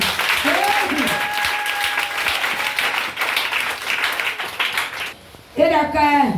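A church congregation applauds steadily to acclaim Jesus, dense clapping throughout with a singing voice rising over it at the start and again near the end, after a brief drop in the applause.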